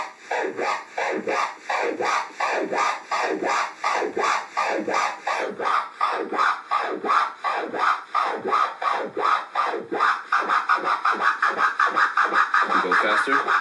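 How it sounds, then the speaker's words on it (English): A DJ performs baby scratches on a turntable record, a steady run of back-and-forth rubbing strokes that speed up toward the end, loud and close with no talking. "The baby scratch, which is right here"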